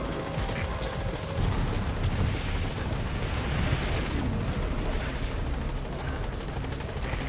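A helicopter touches down in the video game Metal Gear Solid V, with loud, constant rotor thumping and engine roar that fill the scene without a break.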